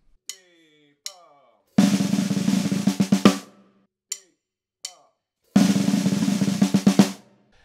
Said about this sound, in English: we have a slightly different stop using a triplet.